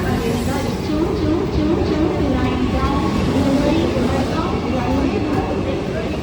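Steady rumble of a Vande Bharat train at Thane station, a continuous low drone with faint rattling throughout, with people talking over it.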